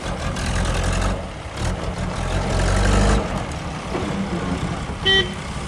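A tractor engine starts and runs with a loud, steady, low rumble throughout, and a short higher tone cuts in near the end.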